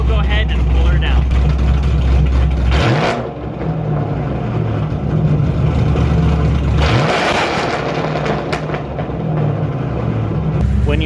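Loud Ford Mustang engine at idle, then revved up to 3,000 and 5,000 RPM, the roar surging twice over a steady rumbling idle, close and dominant throughout.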